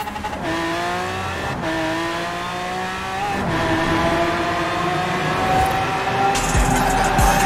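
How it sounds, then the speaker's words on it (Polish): A Lamborghini engine in the Forza Horizon 4 racing game revs up hard through rising gear pulls toward top speed, a loud continuous roar broken by brief shifts, with no talking over it. "Jedziemy teraz zobaczyć V-Max z tego Lambosa."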